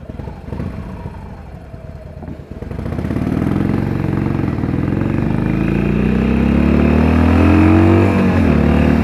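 A Harley Davidson 883R motorcycle engine rumbles loud and close while riding, starting with a lower throttle, then pulling up through a long climbing rev in first gear, its deep exhaust thrum rising steadily in pitch.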